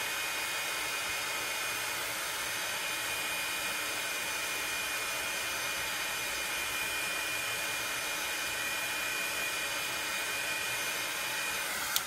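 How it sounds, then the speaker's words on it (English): A heat tool blows steadily, drying a watercolor painting before the sky is added; a continuous loud, even whoosh of hot air runs unbroken for about twelve seconds with no talk. "I'm going to just heat this up just to dry it before we start the sky."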